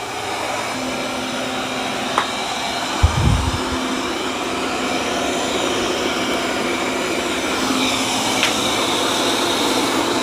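A Tikom L8000 robot vacuum and mop runs across a dirty floor and carpet, giving a steady, even whir that holds for the full stretch, with a couple of faint knocks along the way.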